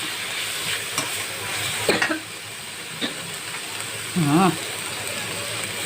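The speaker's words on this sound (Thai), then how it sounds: "จะคั่วให้มันสุกๆก็ใส่" Minced pork belly is stir-fried in a pan for a Thai khua kling dish, giving a steady sizzle with a few sharp scrapes and clinks of the utensil against the pan, plus a brief hum of a voice near the end.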